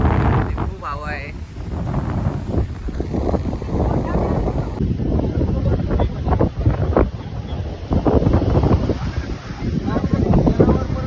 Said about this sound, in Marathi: खूप हवा आहे.